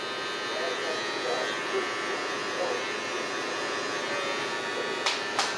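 Electric hair clippers fitted with a 1 guard buzz steadily while cutting hair during a low taper, a low, close hum running continuously beneath a voice talking.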